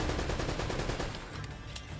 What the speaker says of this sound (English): I'm gonna shoot him some, give him some extra bullets.